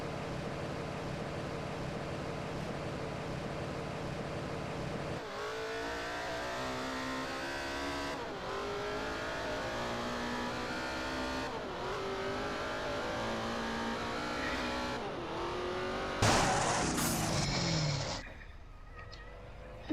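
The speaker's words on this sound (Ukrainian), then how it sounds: "Побуксую трохи" A car in GTA revs hard with its wheels spinning, a loud continuous engine roar rising and falling in pitch through several gear-like surges before an abrupt shift and fade near the end.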